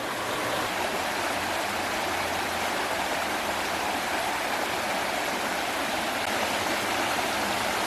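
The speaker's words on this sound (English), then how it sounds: "just like the sound of this river" A river flows steadily with a continuous rushing, broadband babble of water, close and unbroken throughout, with no voices.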